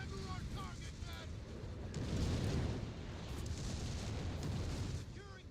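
Explosions in a real-time strategy video game form a dense, loud rumbling barrage of booms that swells in the middle. Brief game voice snippets come through over it.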